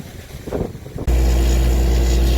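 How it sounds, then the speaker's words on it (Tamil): After a second of quieter background noise, a loud air compressor truck abruptly kicks in at a borewell: a steady roaring blast of air over a deep, droning engine hum. "காற்று அடிக்கிறதுக்கு வண்டி சவுண்டுக்கு சரியாக பேச முடிய மாட்டேங்குதுங்க"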